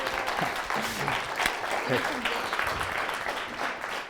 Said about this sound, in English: Can we give our friend Burton one more huge round of applause?